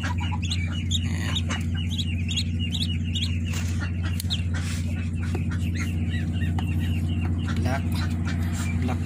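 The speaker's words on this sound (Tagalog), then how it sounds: "Ayan ang ating mga alagang duckling. Bagong hatch." Newly hatched ducklings peeping in a dense, continuous chorus of high chirps close by, with some clucking from adult fowl mixed in and a steady low hum underneath.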